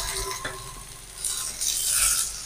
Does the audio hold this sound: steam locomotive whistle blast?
no